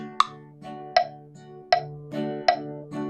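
Four plucked notes from a string instrument picked with a pick, each with a bright, sharp attack and ringing harmonics, evenly spaced and played alone.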